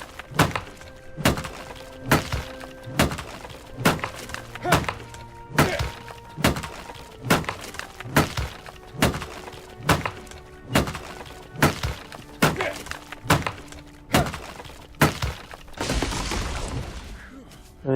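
Repeated axe blows chopping down a tree in the video game Dark and Light: a steady series of sharp, loud wooden thunks about every half second, ending in a longer crunching crash as the tree gives way, with music underneath.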